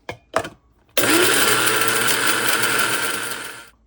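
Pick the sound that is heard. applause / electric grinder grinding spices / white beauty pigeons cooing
electric grinder grinding spices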